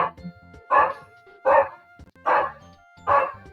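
A dog barking inside a home, five sharp, evenly spaced barks close to the microphone with brief quiet gaps between them.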